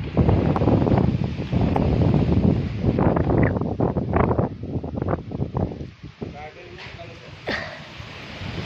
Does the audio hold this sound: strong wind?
yes